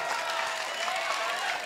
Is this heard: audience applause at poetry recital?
yes